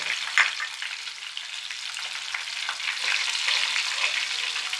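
Sesame seeds fry in oil with asafoetida for a spinach stir-fry, giving a continuous soft sizzling crackle that stays steady and close throughout, with no voices.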